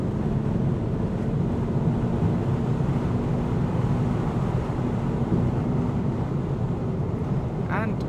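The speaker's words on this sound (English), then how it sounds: "what I'm noticing is it has a lot of wind noise" Inside a BMW on the move, a constant, loud roar of wind and road noise fills the cabin, a dense low rumble that holds steady throughout without a break.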